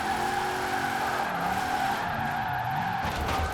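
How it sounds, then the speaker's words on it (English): A trophy truck spins out in the Forza Horizon 4 racing game, tires squealing and skidding continuously over a loud engine roar, close and sustained for a few seconds without any talk. "Is that the first spin out? That is the first spin out."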